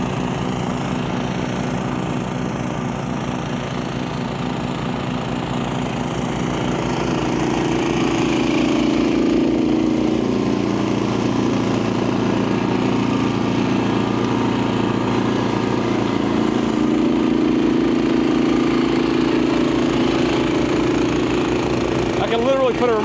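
A Honda HSS1332 ATD snowblower engine runs unattended, a steady close mechanical drone that grows slightly louder partway through, with someone talking over it at times.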